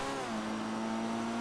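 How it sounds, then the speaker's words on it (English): A Pfister Growler sports car in GTA Online holds a steady, loud revving engine note with a smooth sustained drone and no pauses. "The engine sound really brings it down a little bit,"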